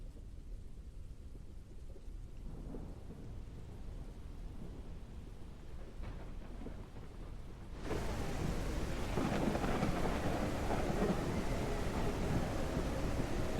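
Video game rain and low rumbling thunder, steady downpour muffled at first, then suddenly louder and fuller partway through as the downpour comes through clearly.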